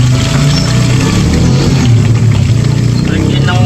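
A water pump motor runs loud and close with a steady low hum and rumble, used for doing laundry at dusk, and speech can be heard over the drone.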